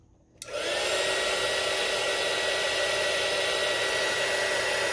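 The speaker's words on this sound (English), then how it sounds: "I'm going to grab my heat tool." Crafting heat tool switched on and blowing hot air, a sudden start followed by a steady loud hissing whoosh that continues unchanged, close by, with no talking.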